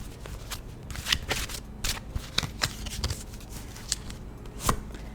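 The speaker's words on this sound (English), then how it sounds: "let's pull two cards from this eliminated deck" Tarot cards pulled from an eliminated deck, a series of crisp card slides and flicks, close and fairly quiet, with no talking.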